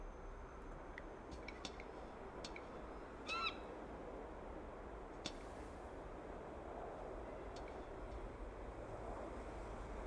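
Seagull calls from the Broken Sword 5: The Serpent's Curse adventure game, a few brief cries at mid-distance over a steady windy, surf-like ambient bed, with no talking.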